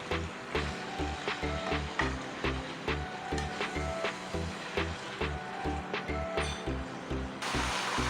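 Mutton sizzling with garlic and ginger in a karahi, a steady close hiss of frying under a regular, repeated rhythmic knocking, with a brief louder rush of sizzle near the end.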